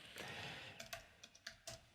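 Typing on a computer keyboard in a terminal session, with a quick run of clustered keystrokes followed by several separate, crisp key taps, fairly close and quiet.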